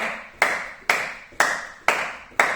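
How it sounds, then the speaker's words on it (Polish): Hand clapping during a Chikara 3pac workout, five sharp claps at an even beat about half a second apart, close and crisp, each with a short decaying ring. "Klaszczemy"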